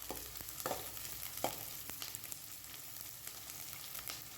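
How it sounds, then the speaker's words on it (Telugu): A chopped medium onion fries in oil with cumin, making a soft, steady sizzle with scattered small crackles and a few light scrapes of stirring, fairly quiet and with no talking. "ఒక మీడియం సైజ్ ఆనియన్ని కట్ చేసుకొని వేసుకోవాలి. ఆనియన్స్ని ఇలా వేయించుకుంటూ"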